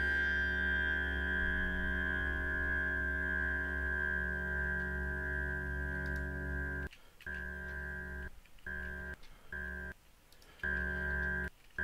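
An electric guitar stem after adaptive noise reduction in Adobe Audition, a sustained, buzzing held chord that drops out in several abrupt gaps near the end, heard alone.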